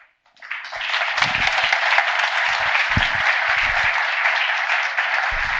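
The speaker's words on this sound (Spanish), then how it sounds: "Por favor, les pido otro fuerte aplauso." A large crowd applauds steadily after a brief moment of quiet, a dense, sustained wash of clapping that continues to the end.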